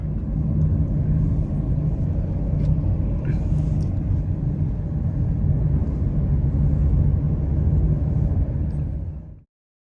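A car drives through the old walled city of Avignon, its steady engine and tire rumble loud and continuous for almost ten seconds before cutting off abruptly at the end.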